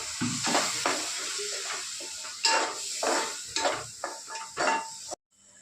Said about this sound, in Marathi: तोपर्यंत व्यवस्थित मसाला हलवायचा